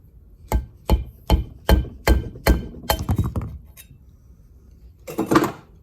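Sharp metallic taps of a hammer on a chisel ring out one after another, about seven evenly spaced strikes, then a quicker cluster and a scraping clatter, close up.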